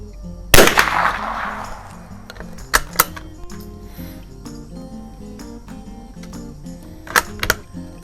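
A Remington 540-X single-shot .22lr bolt-action target rifle fires one sharp crack, followed by metallic clicks and clanks of the bolt being worked and reloaded, with a couple of brisk snaps near the end.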